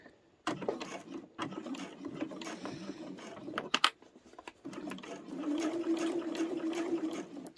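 A sewing machine stitches a rotary cutter pouch made from layer cake fabric, running in short bursts with pauses, then a longer steady run near the end, close and fairly loud with no talk.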